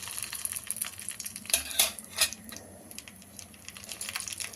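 Green chillies frying in half a ladle of oil in a kadai while a ladle stirs them, with soft sizzling throughout and a few clinks and scrapes near the middle, close and moderately quiet.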